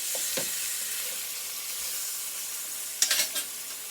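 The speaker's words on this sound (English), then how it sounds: "I'm just going to let it fry a little longer, then I'm going to add my butter." Meat frying in a pan, a steady soft sizzle with a few brief clinks and scraping stirs near the end, no voices.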